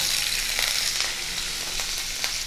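Sliced bitter gourd pieces sizzle in hot mustard oil, a close, steady hiss of frying with a few soft clicks from stirring, no voices.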